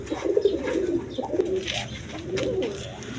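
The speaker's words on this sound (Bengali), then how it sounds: "দর্শকবৃন্দ এখানে এক পেয়ার ব্ল্যাক লেস শার্টিং কবুতর আছে" A pair of black lace shirting pigeons coo nearby in repeated low, throaty rolling phrases, with a few lighter rustles between calls and no talk.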